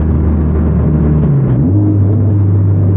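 Modified 500 hp Honda Civic Type R engine revved with the windows up, a loud steady low drone from inside the cabin that dips briefly, then rises and settles into a sustained higher hum.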